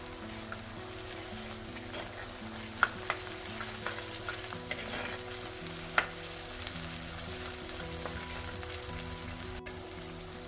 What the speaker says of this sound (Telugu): ఈ అల్లం పచ్చిదనం పోయేంత వరకు కాస్త ఫ్రై చేసుకోండి.